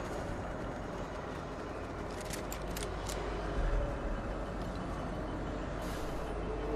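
A steady low rumble of a moving train in the video game Fortnite rolls on continuously, with faint squeaks and hisses of brakes or wheels above it.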